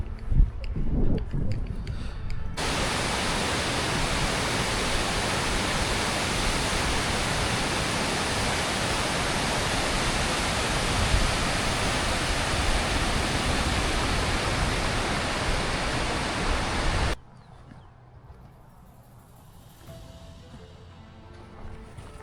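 Spring water fed by filtered lake water gushes loudly and continuously at close range near Kandol Lake, a steady broadband rush lasting about fifteen seconds before dropping to quieter outdoor ambience.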